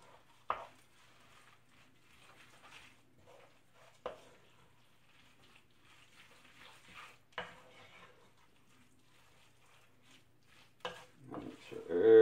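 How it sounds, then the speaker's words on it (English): Vegan lentil loaf ingredients are mixed by hand in a bowl, with sparse soft scraping and stirring and a few sharper clinks of a utensil against the bowl. The setting is a quiet kitchen, and the sounds build to a louder stir at the end. "So mix everything together."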